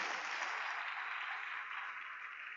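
A church congregation applauds during a celebration service, a smooth, steady wash of clapping at moderate distance that eases slightly toward the end.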